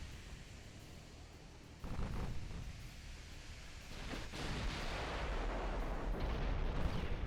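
Naval gunfire booms in the Ultimate Admiral Dreadnoughts warship battle game. Heavy gun reports fire in several loud deep thuds over a continuous rumbling battle din, with no talking.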